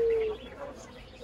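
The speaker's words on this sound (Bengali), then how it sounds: "ওরে বাবা, একটু ঘুঘু দেখে আসছি, বিদেশি ঘুঘু।" A foreign dove coos once, near and clear, at the start against a soft background hum, fading quickly.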